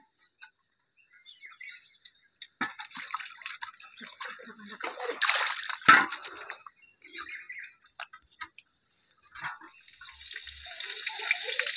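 Tap water running while fish is washed, splashing and clattering irregularly close by, with a steadier hiss of running water building toward the end.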